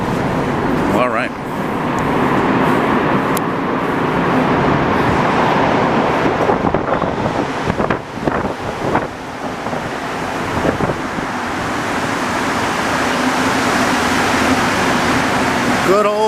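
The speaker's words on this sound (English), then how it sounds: "Good old Bombardier MR73 Metros." A Bombardier MR73 Montreal metro train runs steadily, a loud broad rushing roar with rumbling and squeals, with a few sharp clacks near the middle. Voices are faintly heard beneath the noise.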